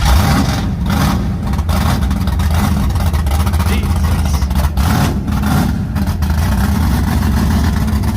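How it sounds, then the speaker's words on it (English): A big block engine in a Chevrolet Malibu roars on a dyno, a loud, sustained low rumble that rises and dips as it is revved, close and dominating. "that's a big block"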